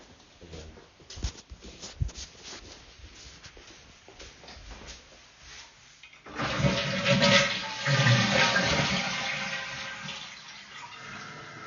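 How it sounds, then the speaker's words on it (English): A household toilet flushes loudly from about six seconds onward, a broad rushing swirl of water that keeps going to the end, preceded by quieter clattering and handling noises. "go ahead and flush the toilet"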